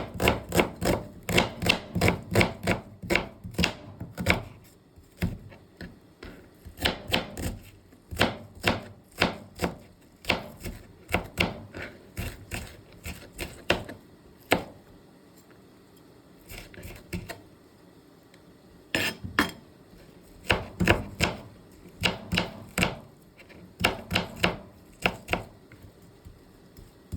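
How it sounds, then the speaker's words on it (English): A knife dices an onion on a cutting board in rapid, sharp, close chops, coming in bursts with short pauses and a longer break midway. "dice my onion into small pieces"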